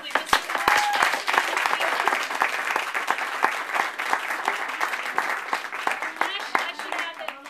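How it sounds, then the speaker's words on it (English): An audience at a book launch at Fergie's applauds warmly, many hands clapping densely and close for several seconds, slowly thinning toward the end. "a round of applause to Mark"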